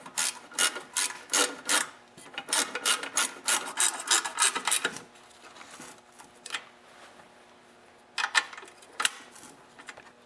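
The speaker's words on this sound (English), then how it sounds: "And now you can tighten up the small bolt on top." A ratchet tightening a small engine muffler bolt, bursts of quick rasping clicks close by, then a pause and a few more short ratcheting strokes.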